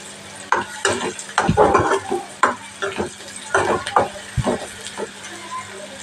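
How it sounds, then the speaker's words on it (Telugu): Onion pieces fry in a pan for bitter gourd (kakarakaya) fry, heard as loud, close clattering stirring strokes and metal scrapes over a light sizzle, in irregular bursts. "ఇలా ఉల్లిపాయ ముక్కలు అయితే ఫ్రై అయిపోయినాయి"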